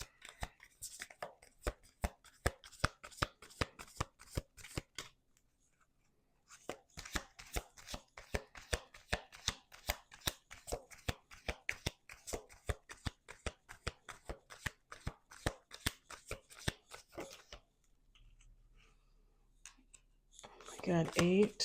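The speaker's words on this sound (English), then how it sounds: "Let's do 2 more shuffles." Deck of playing cards being riffle-shuffled at a card table, a rapid ripple of crisp clicks in several bursts with a brief pause between, ending with a soft bridge and faint handling noise.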